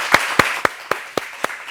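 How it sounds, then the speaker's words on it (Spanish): Six sharp, evenly spaced claps ring out close by, welcoming a guest onto a talk show set. The claps are brief and distinct, with quiet between them. "aquí un aplauso para ella"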